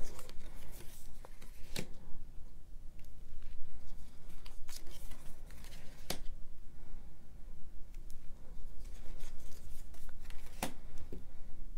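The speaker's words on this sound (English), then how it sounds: "I'm going to flip through the whole deck." Cards of a tarot deck are flipped through one by one, soft papery slaps and rustles at an uneven pace, close and quiet, with occasional sharper snaps.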